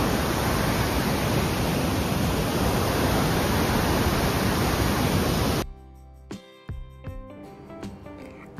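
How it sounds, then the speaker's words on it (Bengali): The Shyok River near Turtuk in Ladakh rushes in a strong current, a loud, dense roar filling the first half before cutting away to quieter, clattering sounds with no speech. "জলের তোড়টা দেখেছেন কি জোরে"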